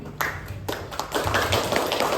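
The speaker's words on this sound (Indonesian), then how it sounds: "Tepuk tangan Bapak Ibu." A seminar audience on a PPPK values and ethics orientation gives a short burst of scattered hand claps and taps, close and fairly loud, with no talk over it.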